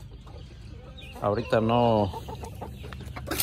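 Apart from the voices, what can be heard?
hen clucking near chicks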